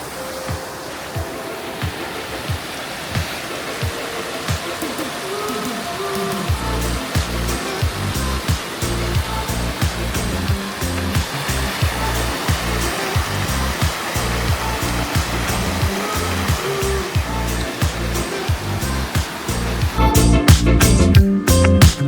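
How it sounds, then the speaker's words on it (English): Laughing Water Creek in Mount Rainier National Park rushes under a small bridge as a steady broadband roar of flowing water, close and constant, with rhythmic footsteps or hollow knocks on the bridge running through it. "So we just made it to Laughing Water Creek at this little bridge here."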